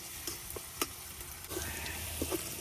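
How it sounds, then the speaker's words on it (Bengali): Onion and crushed garlic fry in a pan until reddish, giving a faint, steady sizzle broken by scattered soft taps of stirring. "পেঁয়াজ রসুন গুলা এই যে আমি ভাজে নিছি লাল করে।"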